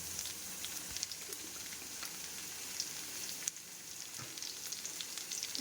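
Soya chunks and potatoes frying in oil with cumin and dried red chilli, giving a steady, soft, even sizzle with faint crackles throughout and no talking.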